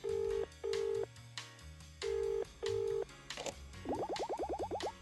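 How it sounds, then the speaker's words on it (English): Telephone being dialed in the video game Escape From Ever After: repeated steady electronic tones in short bursts, followed by a quick run of rising chirping beeps, loud and close. "Please wait 1 second while I phone my boss."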